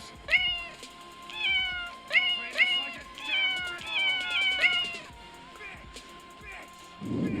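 A recording of a cat meowing plays from a speaker, a series of repeated plaintive meows in clusters, fairly loud and close, with a short rustle at the end.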